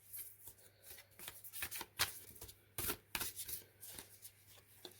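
Sturdy, foiled Moonchild Tarot cards are riffle-shuffled up close, giving a run of sharp papery flicks and slaps in uneven bursts over a quiet background.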